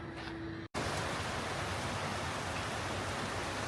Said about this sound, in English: Blue skies and torrential rain.